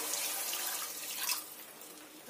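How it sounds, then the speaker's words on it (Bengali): Water from a rinsed spice bowl splashes into a pan of yogurt fish curry with a steady, soft hiss that fades slightly toward the end. "আমি ওই মশলার বাটি ধুয়ে জলটা দিয়ে দিলাম।"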